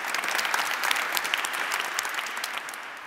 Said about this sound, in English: Let's give a round of applause to the BMZ.